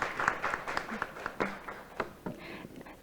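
Scattered audience applause at a Korean data innovation forum, soft and fairly distant, with individual claps standing out as a presenter is welcomed.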